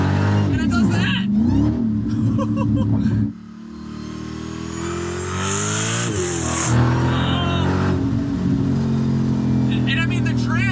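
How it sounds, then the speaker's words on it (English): A stage 1 bolt-on Dodge Hellcat with a torque converter automatic revs hard and accelerates, the engine note climbing and dropping through quick successive gear shifts, loud and close, with someone talking over parts of it. "It's a torque converter transmission, but it's just bam, bam, bam, wah, bam, wah, bam. It's like music."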